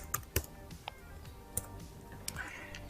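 Keys clatter on a computer keyboard in a short, quiet burst of irregular taps, close and dry, with no talking over them.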